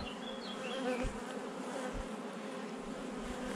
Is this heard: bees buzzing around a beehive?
yes